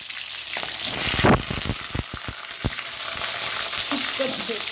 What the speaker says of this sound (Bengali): তেল হয়ে গেছে, এবারে মাংসের জন্য আলু ভেজে নিই।